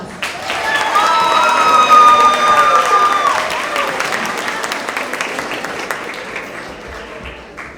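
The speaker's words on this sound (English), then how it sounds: "Let's give her a round of applause." An audience at a middle-school end-of-year award assembly breaks into sustained applause with scattered cheers, swelling early then easing off gradually across the hall.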